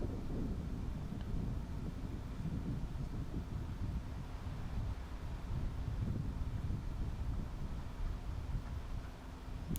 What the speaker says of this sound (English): The wind picked up a lot on this hole out by the lake pond.